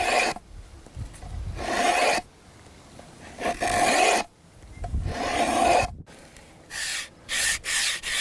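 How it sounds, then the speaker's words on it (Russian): Coarse sandpaper rasps against wood in long, irregular hand strokes, fairly loud and close, with a run of short, quicker strokes at the end and no talking. "Наждачку берем сначала крупную, крупнозернистую, затем мелкозернистую"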